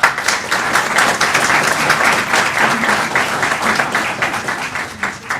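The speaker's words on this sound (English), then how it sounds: "let's give Anytime Fitness of Lenore a big round of applause" A board of education meeting audience gives steady, sustained applause for a local fitness gym, the dense clapping continuing evenly with a faint voice beneath.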